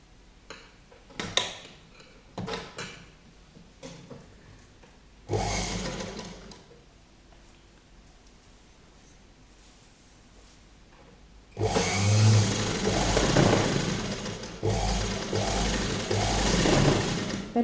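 Sewing machine stitching around the corner of a kurti placket, heard as short near bursts early on, then a longer, louder steady whirring run at the end, alone without talk.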